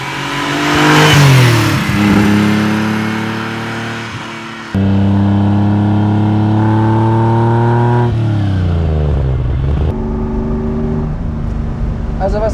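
A 1974 Ferrari 246 GTS Dino with a mid-mounted V6 revs hard as it accelerates, its engine note climbing through several gear pulls, loud and close throughout.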